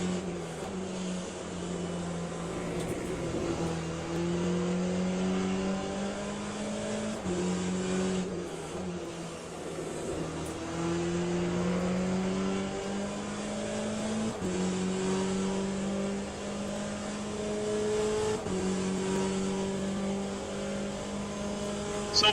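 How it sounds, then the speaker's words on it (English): Race cars and hypercars in Le Mans Ultimate, engines droning close with repeated rising gear pulls and shifts over a continuous steady roar, with occasional cars rushing past. "But the hypercars, when they go past you, I mean, they shoot right past you."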